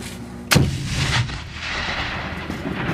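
A single hand grenade detonates on a live military training range, one sharp, loud blast followed by a short rumbling decay and steady outdoor background noise, with no talking.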